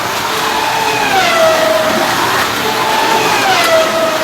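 Scalextric slot cars, including a Mondeo and a BMW, race around a slot track with a continuous electric motor whine that rises and falls in pitch as the cars circle and pass.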